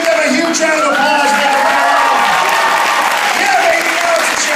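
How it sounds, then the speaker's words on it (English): A comedy show audience at a Penn State showcase breaks into loud, dense applause with whoops and cheers throughout, while voices shout and talk over the clapping. "give them a huge round of applause."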